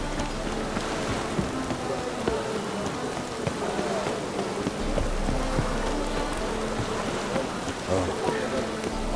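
Steady rain falls in the fantasy game The Witcher 3: Wild Hunt, a constant dense patter on surfaces with a low rumbling undertone, continuous and fairly loud throughout.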